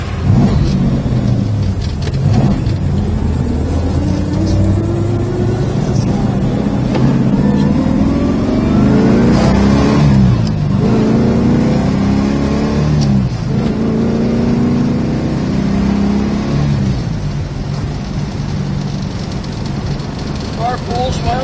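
A 1969 Plymouth Road Runner engine runs loud and close, its revs rising and falling through repeated acceleration pulls over a steady rumble.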